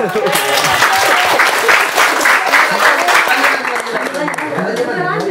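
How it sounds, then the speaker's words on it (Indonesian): A group claps hands in steady applause, fairly close and loud, with voices mingling over the clapping, which eases slightly in the last seconds. "Tepuk tangan dulu, tepuk tangan."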